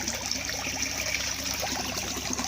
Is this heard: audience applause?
no